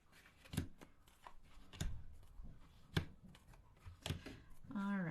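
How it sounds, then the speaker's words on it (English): Tarot cards dealt one at a time onto a table into two rows of four, several soft slaps and slides spaced about a second apart, close and quiet, with a little voice near the end. "I'm going to go ahead and put out a total of 8 cards"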